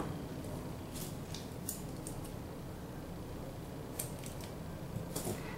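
Scissors snip through crochet yarn while a baby shoe is being finished, a few quiet, brief cuts spaced apart against a steady low background hiss.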